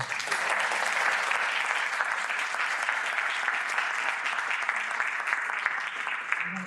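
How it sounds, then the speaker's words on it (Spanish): Steady, loud audience applause fills the room at a book presentation, a dense continuous clatter of many hands that carries on without pause from start to finish. "Y pues un aplauso para estos años."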